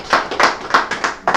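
Congregation hands clapping at a church baptism, a run of about six close, bright claps in an even rhythm, with no talk over them.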